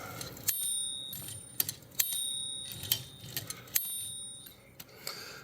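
The bell mechanism of an Underwood Portable 3 Bank typewriter with line lock problems, giving several bright ringing dings among metallic clicks and clacks from the carriage, close and distinct, with no talking.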